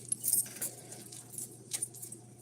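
House keys on a ring, including a newly added outdoor door key, jangle and clink in a few quick, faint metallic bursts.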